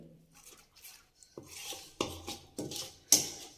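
A spoon clinks against a bowl while stirring a paneer tikka coating mixture, with four or five distinct scraping knocks after a quiet start.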